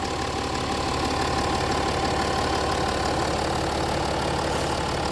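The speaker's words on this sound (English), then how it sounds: "It's a lovely engine," Jaguar XF engine idling with the bonnet open, a steady, even hum and faint mechanical ticking that stays constant throughout with no voices.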